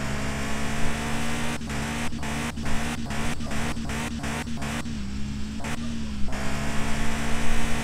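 A Car For Sale Simulator 2023 car engine revs loudly and continuously, with a rapid series of sharp clicks or gear shifts cutting through partway.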